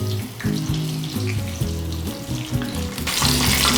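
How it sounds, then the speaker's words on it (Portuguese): Breaded ground beef steaks frying in very hot oil one at a time, giving a loud, close, continuous sizzle with bursts and crackles that swell toward the end, no speech. "Agora, com o óleo bem quente, vamos começar a fritar os bifes."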